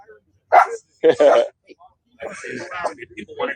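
A dog barks in a couple of short, sharp bursts near a beach with ocean views, followed by people chatting close by.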